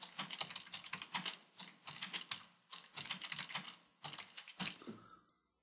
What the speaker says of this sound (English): I'm going to type in a sentence.